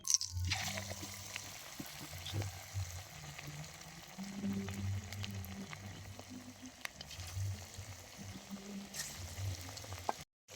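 Bean fritters (sheemer bora) sizzle steadily in hot oil, a continuous crackling fry with low bubbling pulses, close and alone without any talk.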